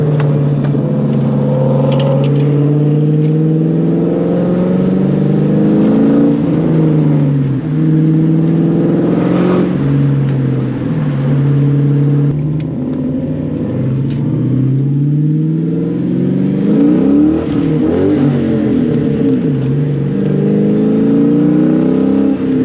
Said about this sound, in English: I did another first gear pull